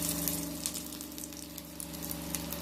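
Five or six dried red chillies fry in hot oil for a pirandai chutney, giving a close, steady sizzling hiss that runs throughout with no talking.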